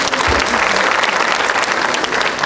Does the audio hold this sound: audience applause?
yes